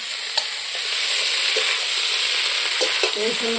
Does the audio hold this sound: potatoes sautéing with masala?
yes